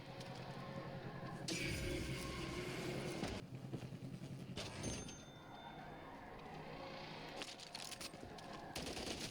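Rapid automatic gunfire in Modern Warfare 3 crackles loudly in long sustained bursts with brief gaps, mixed with vehicle-like engine rumble and game effects; no talking.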